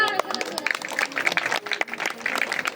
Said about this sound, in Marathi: हे आवडलं असेल तर टाळ्या तरी वाजवा.